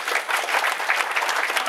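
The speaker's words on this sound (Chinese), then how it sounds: "请各位再次以掌声谢谢蔡政委员" Audience applause fills a workshop hall after an official's speech, a dense, steady wash of many hands clapping at even loudness, with no voices over it.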